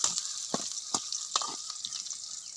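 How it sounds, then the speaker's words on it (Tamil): Onion, green chilli and curry leaves sauté in a pan with a bright, even sizzle broken by several sharp spatula scrapes, close by, with no voices. "வெங்காயத்தை நல்லா வதக்குறோம்."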